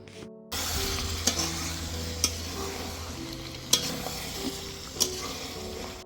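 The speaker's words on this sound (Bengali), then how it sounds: "এবার বেশ কিছুক্ষণ ধরে মাংসটাকে মশলার সাথে কষিয়ে তারপরে আমি জল দেব" Meat is stir-fried with spices in a pan for a Bengali-style kosha. After a brief quiet start comes a steady sizzle, with a spatula tapping or scraping the pan roughly once a second.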